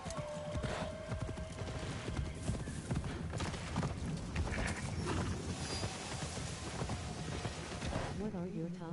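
Hooves clip-clop in rapid irregular beats as a horse trots in Assassin's Creed Shadows, with a whinny, game effects and someone talking over it.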